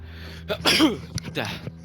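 One close sneeze bursts out sharply, followed by a brief throaty breath sound.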